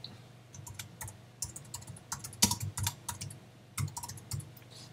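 Someone typing a title on a computer keyboard, with irregular bursts of quick, crisp key clicks and a few louder taps in a quiet room.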